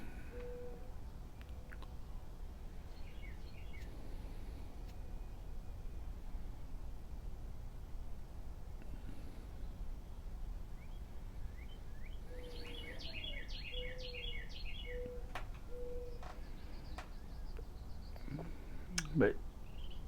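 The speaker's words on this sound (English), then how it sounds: "Birds are singing." Outdoor ambience with a steady hiss and faint, scattered bird calls and chirps, some brief trilling bursts, fairly distant.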